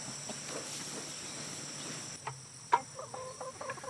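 Chickens in a barnyard cluck and call faintly at a distance over a steady chorus of chirping insects, with a few sharper clucks near the end.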